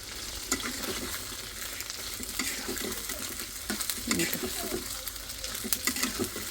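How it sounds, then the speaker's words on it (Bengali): Ginger and shrimp fry together in hot oil in a home kitchen, giving a continuous crackling sizzle broken by scraping stirs in the pan, with spattering pops scattered through. "আদা আর হলো চিংড়ি মাছ একসাথে ভাজে নিলাম"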